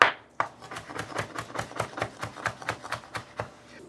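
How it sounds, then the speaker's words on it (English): A knife cuts ginger into thin slices on a board, giving a quick, steady run of crisp chopping taps, close and clear with no talking. "I slice the ginger into thin slices"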